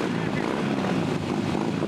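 Members of a motorcycle club arrive on their motorcycles with engines revving, a loud, steady, broadband engine roar with wind rushing, close and continuous.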